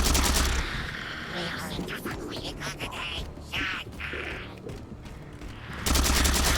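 Bursts of weapon fire in the video game Halo 4, loud rattling volleys at the start and end with quieter game sounds and someone talking between them.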